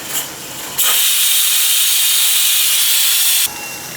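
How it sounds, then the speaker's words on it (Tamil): A pressure cooker on a stove, cooking kali on a medium flame, lets off its whistle: a loud, steady burst of hissing steam that cuts in abruptly, holds for almost three seconds, then stops sharply. "மீடியம் ஃப்ளேம்லேயே வச்சு ஒரு விசில் விட்டு எடுத்துக்கலாம்"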